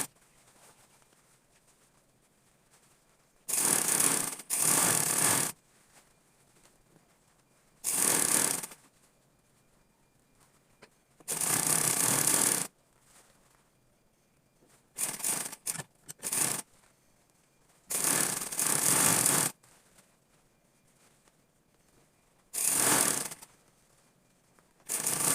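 Short bursts of a sewing machine running as the side of a tote bag is stitched to its lining, several separate loud runs of rapid stitching broken by quiet pauses.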